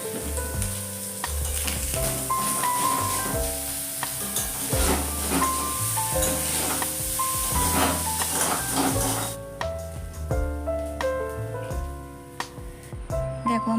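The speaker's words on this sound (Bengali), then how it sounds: "পনিরটাকে দেখো আমি নুন আর হলুদ দিয়ে ভেজে রেখে দেবো হালকাভাবেই ভাজবো" Paneer fries in oil with salt and turmeric in a loud continuous sizzle, stirred with scraping and tapping of a utensil in the pan, close up, with background noise dropping off near the end.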